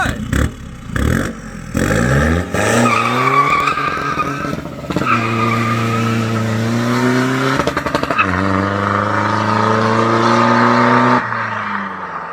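A remapped car launches from a handbrake start into a drift, its engine revving hard and climbing through the gears while the tires squeal and skid loudly and continuously, close by.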